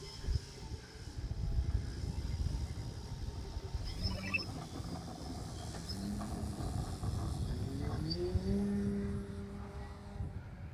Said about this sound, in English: We're going to maiden this big, beautiful 85-inch Extreme Flight laser.